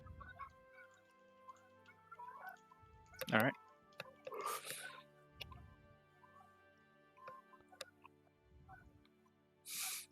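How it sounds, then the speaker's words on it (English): Geese in ambient background sound during a tabletop game session, with several faint honks and clucks spread across the scene under people talking, alongside low thuds and small clicks. "That is geese."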